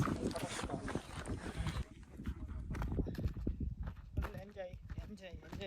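A horse walks with steady clip-clopping hooves at a viewpoint in Chikkamagaluru, partly masked by continuous talking.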